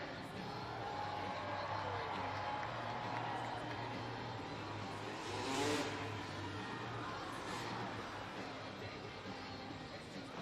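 Monster trucks rev their engines during warm-up jumps in an indoor Monster Jam arena in Milwaukee, a faint, distant roar that swells around the middle under a wash of crowd noise and echoing room sound.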